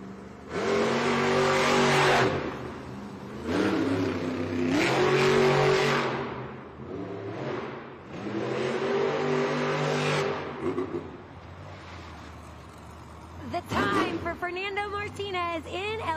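El Toro Loco monster truck engine revs in an indoor arena during timed racing, with loud surging bursts that rise and fall repeatedly, then a sharper run of rapid revs near the end, an announcer talking over it.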